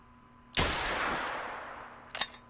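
A .243 pistol fired at a pronghorn in a hunting game, one sharp loud crack with a long rolling echo tail, followed by a second quieter report near the end.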